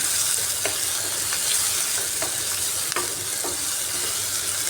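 Sliced onion frying in oil in a pan, with a steady broadband sizzle throughout and several sharp scrapes of a spatula as it is stirred, close and fairly loud.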